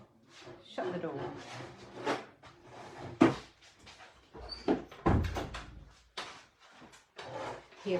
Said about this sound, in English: so we'll shut the door